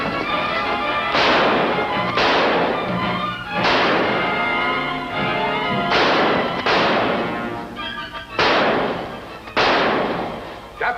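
Gunshots in a radio drama about federal customs officers, a series of sharp booming reports spaced a second or two apart, each with a ringing decay, repeating steadily through the scene.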